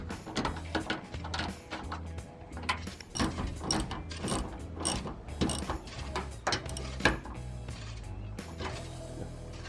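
Nuts being tightened onto the middle bolts of solar panel mounts, a steady run of metallic ratcheting clicks and clanks with busy mechanical rattling throughout, fairly close.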